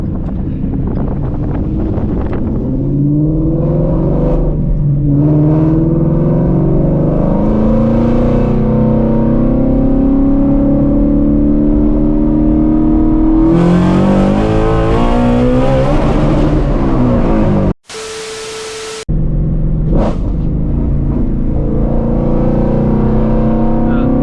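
A Ford Shelby GT350 with long tube headers accelerates hard, its engine note rising through the revs in loud pulls with gear changes, under heavy wind noise and some talking.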